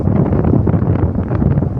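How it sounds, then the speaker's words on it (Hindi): Icy wind blowing on the mountain route near Gunji on the Adi Kailash trek, a loud, continuous low buffeting roar across the microphone with no talk. "और ये सब चारों तरफ बर्फीली हवा चल रही है।"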